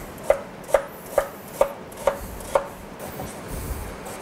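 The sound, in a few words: knife chopping parsnips into cubes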